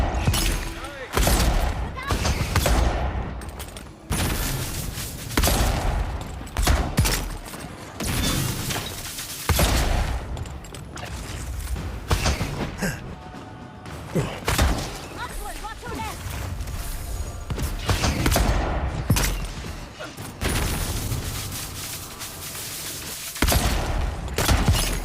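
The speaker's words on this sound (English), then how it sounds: "this magic missile is amazing" Magic missile spell effects firing repeatedly in the fantasy video game Avowed, a dense volley of sharp bursts and impacts that stays loud and busy throughout, with a voice talking over it.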